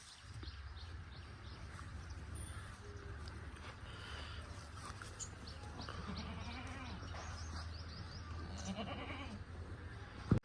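A newborn goat kid bleats softly several times amid quiet dairy farmyard background noise, its thin cries faint and fairly close.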